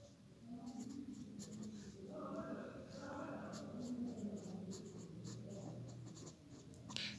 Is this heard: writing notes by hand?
yes